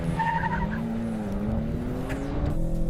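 Tuned BMW M3 cars launching hard at the start of a standing quarter-mile drag race, engines roaring loudly and steadily with tyres squealing as they pull away together.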